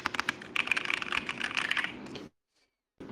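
Rapid typing on a mechanical keyboard's 1U keys dampened with cotton, a close, dense clatter of soft keystrokes for about two seconds, then a brief silence before more key noise resumes.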